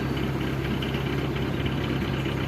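Steady, dense rumble of a narrowboat engine running at forward revs, a close, continuous diesel drone with no breaks and no voices.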